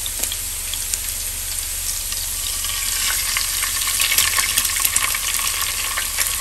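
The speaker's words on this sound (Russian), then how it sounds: "А теперь на этом масле сливочном жарю яичницу глазунью" Fried eggs sizzling in butter in a pan, a loud, steady, close crackle with fine popping spatters throughout and no talking.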